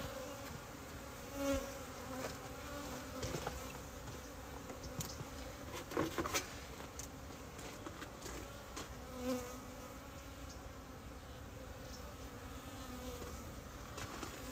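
Bees swarm around an open beehive during a winter hive inspection, giving a continuous close buzzing drone. Louder passes swell now and then as individual bees fly near, over a dense background hum from the colony.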